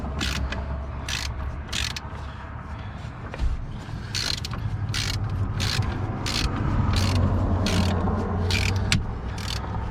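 A hand-cranked wrench draws bolts into a Jeep wheel bearing during a repair, giving a steady run of rapid ratcheting clicks, close and clear, with a low hum of background noise underneath.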